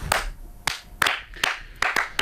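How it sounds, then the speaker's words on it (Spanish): Clapping from the studio audience of a Spanish comedy show: about seven sharp, separate claps in a loose, uneven rhythm over two seconds, close and fairly loud, with no talking. "Le damos un aplauso a España"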